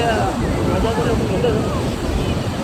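Sea surf on the beach at Ganpatipule: a steady, broad wash of waves with heavy wind buffeting the microphone and faint voices in the background.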